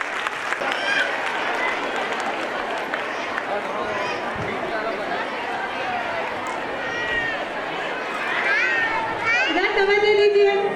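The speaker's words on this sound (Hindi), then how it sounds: "जोरदार तालियां बजाइए।" Crowd clapping at a school annual gathering program, a sustained dense wash of applause mixed with chatter and children's voices that rises louder toward the end.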